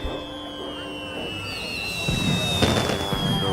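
Fireworks go off at a carnival funfair, with a whistling rocket rising and scattered crackling bursts growing louder toward the end, fairly distant and unaccompanied by talk.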